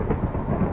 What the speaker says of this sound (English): it is still raining outside